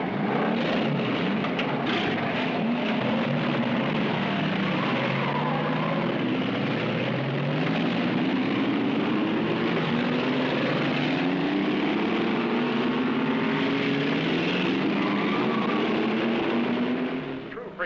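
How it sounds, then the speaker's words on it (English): Several race car engines starting and revving together, a loud continuous roar with rising and falling pitch sweeps as the engines rev up, steady throughout and close. "gentlemen, start your engines"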